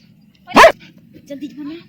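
A dog at the edge of water gives one sharp, close bark, followed by faint, low whining sounds against a steady background hum.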